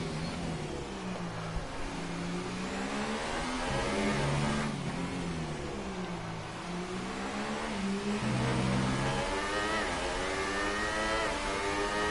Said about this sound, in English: Carl Meds just starting a flying lap, and I do like an onboard in qualifying